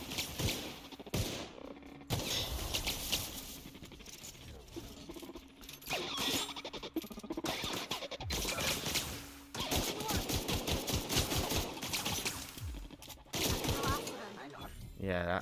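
Pistol fire in the video game The Outer Worlds, bursts of rapid shots crackling through a dense, busy mix of game sound and music, with a voice talking over much of it.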